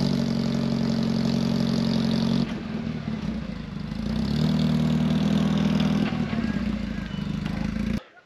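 A Porsche 944 engine idles steadily with a low throbbing hum, its tone shifting as the car is moved along a road; the sound cuts off abruptly near the end.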